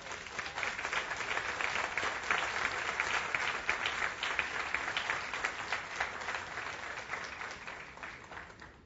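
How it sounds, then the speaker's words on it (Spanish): A church congregation applauds together at a sermon, a dense, steady wash of many hands clapping that carries on for about nine seconds at fairly even loudness, with no voices rising above it. "Daré un aplauso a Dios."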